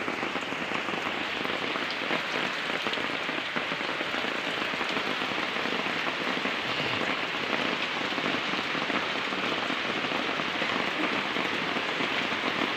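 Light drizzle falls steadily after several dry days, a dense even patter of drops on surfaces that holds constant and fairly loud throughout, with no voices.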